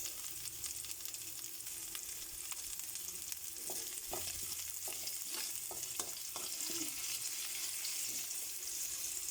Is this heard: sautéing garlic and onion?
yes